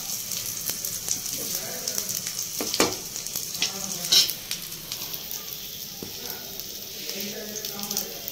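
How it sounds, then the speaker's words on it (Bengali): Rice flour fritters fry slowly in oil, a steady close sizzle with occasional pops and soft utensil clicks, while faint background sounds and speech-like noise sit underneath. "এটা আস্তে আস্তে ভাজা হোক"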